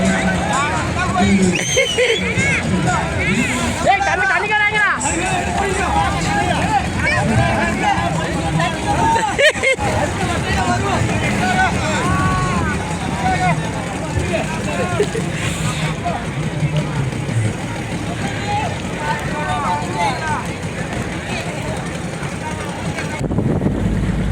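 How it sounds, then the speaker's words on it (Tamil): A large crowd gathered at a boat race in Kalpatti, with a continuous babble of many voices under steady wind noise on the microphone and a few louder shouts rising from the throng. "இந்த போட் ரேஸுக்காக வேண்டிய கல்பட்டியில் விசேஷமாக கல்பட்டி மக்கள் எல்லாம் குமிஞ்சிக்குது"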